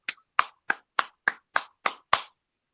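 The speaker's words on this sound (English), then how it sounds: "don't clap like that" Eight sharp, evenly spaced hand claps ring out close and alone, each a crisp slap with a short decay.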